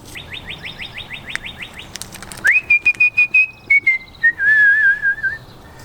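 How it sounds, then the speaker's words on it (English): Birds in a garden give a quick run of repeated high chirps, then a long sliding whistled call broken into bursts, clear and fairly close with no talk. "Hey birds"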